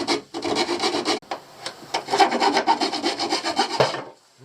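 A broken hacksaw cuts with quick, rough back-and-forth strokes, close and loud, in two bursts separated by a brief pause, during boat floor and switch panel refit work.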